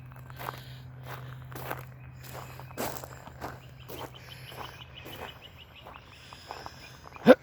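Footsteps of someone walking home outdoors near a bus stop, a steady series of soft crunchy steps close by, with faint birdsong and a low hum in the background and a brief sharp noise at the end.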